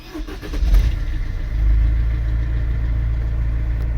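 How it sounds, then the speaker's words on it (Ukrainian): An old Mercedes-Benz Vito ambulance van's diesel engine cranks briefly, catches with a rev, then settles into a steady low idle, close and loud. "Запустимо двигун."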